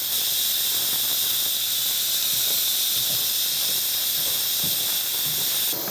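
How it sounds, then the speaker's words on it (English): An Instant Pot cooking split pea soup vents its remaining steam in a loud, steady, sharp hiss that lasts the whole six seconds, with faint low clicks underneath and no talking. "release the rest of the steam before we open it."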